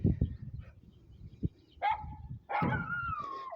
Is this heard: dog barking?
yes